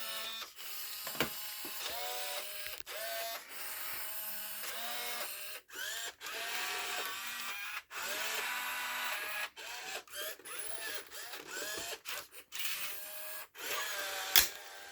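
Small motors of a white third-generation Robosapien V2 toy robot whir and buzz in uneven bursts with brief pauses and clicks, close and moderately loud, no talking.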